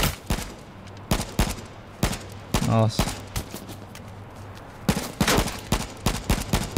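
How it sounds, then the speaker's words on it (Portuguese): Gunfire in the video game H1Z1 comes in sharp repeated bursts, some rapid and clustered, others spaced apart, with a player exclaiming briefly amid the shots. "eu tô tomando muito tiro também de lá de trás"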